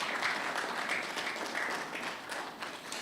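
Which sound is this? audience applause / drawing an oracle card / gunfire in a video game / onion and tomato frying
audience applause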